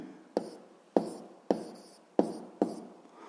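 Pen strokes on notebook paper during a physics exercise, five distinct scratchy marks at a steady rhythm, close and clear with no talk.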